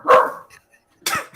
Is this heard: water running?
no